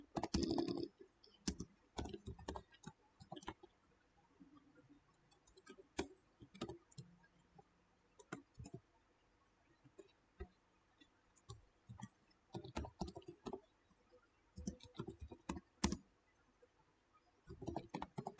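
Rapid, irregular clicking of computer keyboard keys as formulas are typed for a numerical analysis assignment, close and fairly quiet, coming in uneven bursts with short pauses and no talking.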